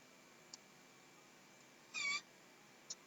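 A domestic cat gives a single short meow, faint and slightly distant, against a quiet indoor room tone with a couple of tiny ticks before and after.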